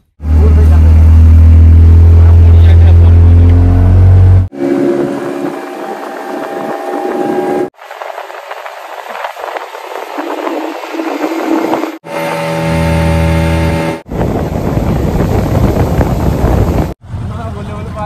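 Boat ride on the reservoir water at Massanjore Dam, heavy wind buffeting and a droning motor in loud choppy segments, with voices talking over parts of it.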